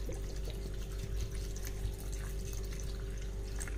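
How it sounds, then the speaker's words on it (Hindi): Water pours steadily into a pot of chicken being cooked for a chicken paratha, a continuous close splashing trickle with a few drips over a low kitchen hum. "इसमें हम पानी भी ऐड करेंगे"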